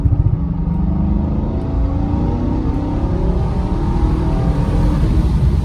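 A Mercedes SL500, left abandoned for over seven years and running on very old tires, accelerates hard with a loud, sustained engine roar that rises steadily in pitch, heard from inside the car without talk.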